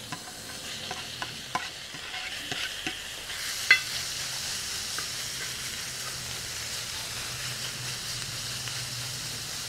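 Diced bacon cooks on a dry comal with no added fat, a steady soft sizzle and crackle running throughout with occasional small pops, close and fairly quiet, no talking.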